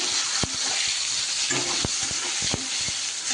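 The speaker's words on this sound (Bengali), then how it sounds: "এবার আমি বেগুনটা দিয়ে দিয়েছি নুন হলুদ দিয়ে বেগুনটা ভাজতে দিয়ে দিয়েছি" Eggplant pieces frying in hot oil with salt and turmeric, a dense steady sizzle with a few sharp pops and clinks of a utensil, close up.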